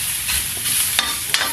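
Chopped garlic sautés in hot oil for a Bisaya pakbet, a steady close sizzle with a few scraping stirs of the pan and no talking.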